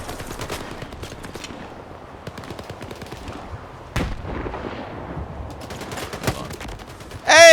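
Bursts of rapid gunfire in a shooter video game, with sharp shots and automatic rattles crackling in clusters, punctuated by a louder blast near the middle and a loud sound rising at the very end.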